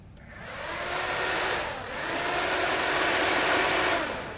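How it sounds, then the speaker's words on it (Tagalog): A vehicle's air blower fan runs strong and steady after a new wiper is installed, a continuous loud broadband whoosh that swells slightly, dips briefly near the middle, then holds before easing off. "pakinggan nyo yung blower natin"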